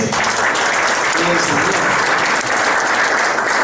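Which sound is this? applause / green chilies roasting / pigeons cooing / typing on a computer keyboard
applause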